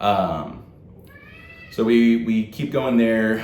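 A cat meows loudly nearby, twice in quick succession, after someone speaks briefly.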